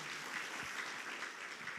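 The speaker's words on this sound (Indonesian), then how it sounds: "tepuk tangan buat Tuhan Yesus" A church congregation claps for Jesus during a Sunday service, a steady, fairly faint wash of applause from a crowd.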